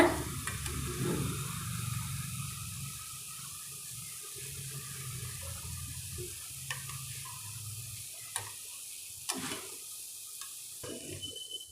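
Soft sizzling of boondi batter frying in hot oil, with occasional stirring clinks and scrapes close by, no voices.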